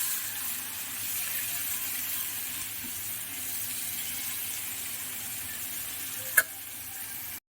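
Whole garlic cloves frying in a pan, a steady soft sizzle held at a low, even level throughout, with one brief sharp tap near the end and no speech.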